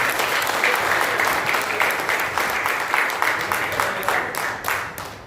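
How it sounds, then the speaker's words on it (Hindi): An audience at an office gathering applauds, a sustained wash of many hands clapping that holds steady at a fairly loud level for several seconds, with some faint voices beneath. "एक बार तालियां बजा दीजिए।"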